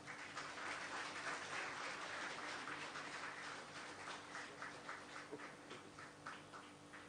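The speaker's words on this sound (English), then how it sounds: "Give a big round of applause, everyone." Crowd applause at a cadet passing out ceremony in Cochin, a broad wash of clapping that holds steady and then thins into scattered claps toward the end, somewhat distant.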